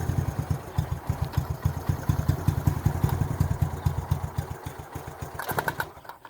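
A Honda ATC three-wheeler trike engine runs nearby with a steady, rapid, pulsing putter, then sputters and cuts out near the end.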